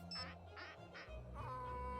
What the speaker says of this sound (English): I forgot he had the goose sound effect.